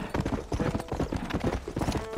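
Horse hooves clip-clopping at a brisk pace in the Xbox 360 game Red Dead Redemption, a dense, continuous run of loud, close hoofbeats with no pause.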